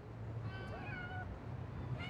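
Cats meowing on an Italian street, a few drawn-out rising meows from more than one cat over a low steady background hum.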